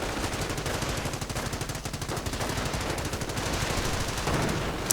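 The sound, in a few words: 30 caliber machine gun fire in a video game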